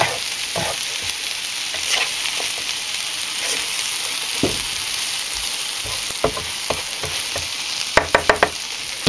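Dandelion flower fritters frying in a pan in a cabin kitchen, a continuous close sizzle with scattered pops and scraping stirs, ending with a quick cluster of clinks, no talk.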